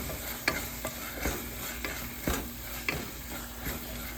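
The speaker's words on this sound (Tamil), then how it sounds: "கொஞ்சம் நேரம் வதங்கட்டும். மசாலாலாம் நல்லா வதங்கிடுச்சு." Masala sautés in a pan under a constant frying hiss, with regular spoon or spatula scrapes and taps as it is stirred, nearby and fairly quiet with no speech.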